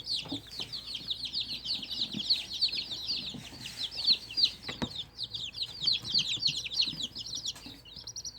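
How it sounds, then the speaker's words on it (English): A young Polish chick with a developing top-knot crest peeps and clucks in a temporary brooder, giving a steady run of high, rapid chirps close by with faint rustling and no talk. "Here, have a floof chicken."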